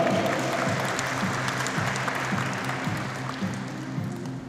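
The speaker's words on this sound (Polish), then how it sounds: "brawa do niego!" Sustained applause for the footballer Łukasz Giza at a KS Powiślak Końskowola club gathering, a dense steady clatter of many hands clapping nearby with a faint low rhythmic thump underneath.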